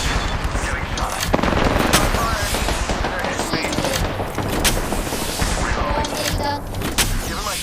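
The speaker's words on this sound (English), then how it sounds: "Getting shot at." Rapid gunfire and explosions in an Apex Legends match, a dense chaotic barrage of shots and booms that carries on steadily throughout.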